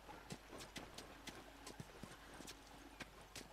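Horse hooves clip-clop at a slow walking pace in The Last of Us, the knocks spaced unevenly, fairly close, with a brief whinny-like sound and a quiet game ambience underneath.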